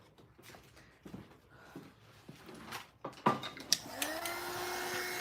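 A hair dryer or heat tool blows over gel medium on a mixed-media piece, its whirring airflow rising in after a few soft handling clicks and knocks, then holding as a steady hum.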